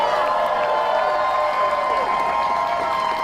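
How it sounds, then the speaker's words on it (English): Crowd applause and cheering for striking Starbucks workers at a New York City rally, a steady dense wash of clapping with voices mixed in throughout. "if we can first have a round of applause for the Starbucks workers themselves"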